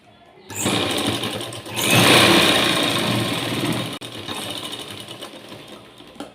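A domestic sewing machine stitches along a blouse seam edge in place of an overlock finish. Its loud, fast mechanical whir starts abruptly, surges, eases slightly, and continues with a brief break before trailing off, with no talking.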